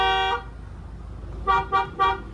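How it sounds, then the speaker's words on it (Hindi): A 2024 Mahindra Scorpio Classic S11 car horn honks, first one longer blast, then after a pause three short toots in quick succession, loud and close. "इतना प्यारा हॉर्न है ना, पौं पौं"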